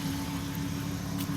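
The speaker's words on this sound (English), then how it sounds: "I got like a noisy pulley or something there." A car with a bad transmission idles with a noisy pulley, a steady close engine drone carrying a constant whining tone over the low rumble, with no speech.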